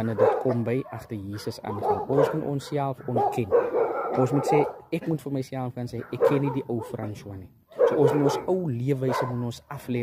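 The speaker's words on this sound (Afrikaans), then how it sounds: "Jammer vir die honde se blaf julle." Dogs bark intermittently in the background during an Afrikaans sermon on following Jesus, the barking sitting faintly under continuous close speech by a man preaching.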